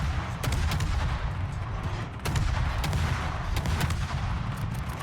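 Naval guns in World of Warships shell an enemy ship broadside on. A dense, continuous rumble is punctuated by repeated sharp booms, with no talking.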